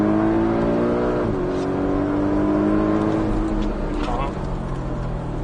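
A Porsche 718 Cayman S accelerating hard on a race circuit, its engine note climbing loudly and steadily from inside the car, with a shift partway through, while people talk over it.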